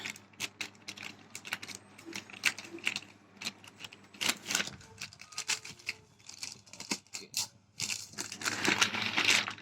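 A study material parcel being cut open up close: irregular crinkling, rustling and tearing of packaging, with sharp snips and crackles that swell louder toward the end.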